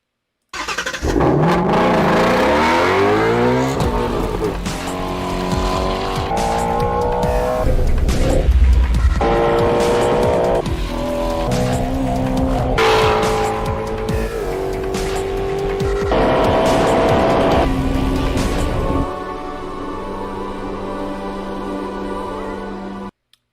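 A Ford Shelby GT350R revs hard and drifts, its engine roaring and changing pitch over long squealing tire skids, loud and close, before easing to a lower idle-like drone at the end.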